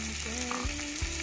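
Onion, ginger, dried scallops and mushrooms fry in a hot pan, giving a steady close sizzle with a couple of soft stirring scrapes and no talking.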